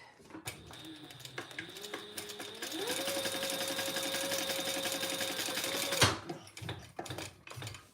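A sewing machine runs a steady stitching burst for about three seconds, its motor whine rising in pitch, then stops, with quiet handling clicks before and after.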